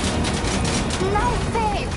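Rapid, loud gunfire in the Death Stranding 2 video game, a continuous fusillade of dense shots with a voice talking over the shooting.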